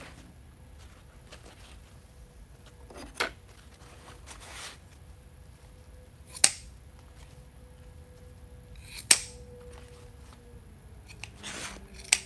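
Scissors trimming the tails of a ribbon bow on a crawfish magnolia wreath, several sharp, separate snips spaced a few seconds apart over quiet rustling.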